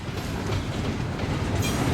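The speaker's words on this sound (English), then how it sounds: "Glad I caught this train before it got past this point. It's pretty significant to see it coming off of the Iowa Northern line" A Union Pacific detour train coming off the Iowa Northern line rolls past close by, a loud, steady rumble of wheels and cars with faint clatter.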